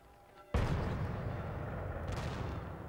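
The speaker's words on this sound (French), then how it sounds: "les Parisiens peuvent entendre des salves de canon tirées en signe d'allégresse" A cannon salvo fired in celebration booms once, sudden and loud, then rolls on as a long, rumbling echo that fades slowly.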